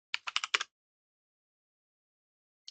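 Rapid burst of about five computer keyboard keystrokes clustered in the first half-second while entering code for a SystemVerilog program, followed by silence and one more faint keypress at the end.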